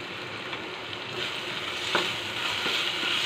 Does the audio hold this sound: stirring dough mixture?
yes